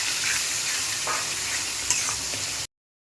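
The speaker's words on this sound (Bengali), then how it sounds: "ভালো করে কষিয়ে নিচ্ছি।" Spice paste of chili powder, turmeric, cumin and coriander mixed with water is stirred and sautéed in a pan for a fish curry, giving a steady close sizzle with faint scraping, no talk, and the sound cuts off abruptly near the end.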